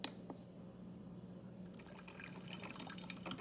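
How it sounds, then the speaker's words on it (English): A home coffee maker brews a pot, its water trickling and gurgling softly in a steady, faint, continuous stream with a low background hum and no talking. "I'm going to cut it on and let it brew for a while."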